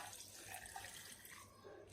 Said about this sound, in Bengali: এখন যে আমগুলো সিদ্ধ করেছি ওই আমের পানি দিয়ে দিচ্ছি 1 কাপ।